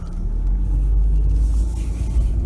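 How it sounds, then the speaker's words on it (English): A Jaguar car pulls out of a driveway with a steady, close, low engine rumble throughout and no voices. "I'm actually pulling out my driveway right now."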